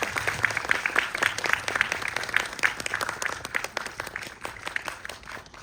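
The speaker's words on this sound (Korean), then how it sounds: "큰 박수 부탁드립니다" A theater audience's applause as guests come onstage at a film screening Q&A, steady dense clapping from many hands continuing throughout, fairly loud and filling the space.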